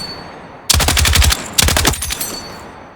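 Automatic weapon hip fire in Battlefield 6: two loud, rapid bursts of gunfire, each lasting well under a second, with a short gap between them.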